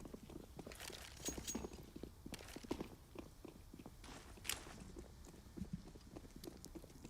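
Many players' footsteps running across the map in Counter-Strike: Global Offensive on Overpass, a dense clattering patter of quick, overlapping steps at a steady moderate level with no talk.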